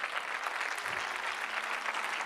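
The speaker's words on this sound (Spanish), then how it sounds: "Denle un fuerte aplauso al Señor." A church congregation gives the Lord a round of applause, the clapping dense and steady but fairly faint and distant throughout.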